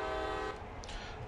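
A short, loud horn toot sounds from a CSX heavy-haul freight locomotive in Train Sim World, a steady tonal blast lasting about half a second before fading into low engine rumble.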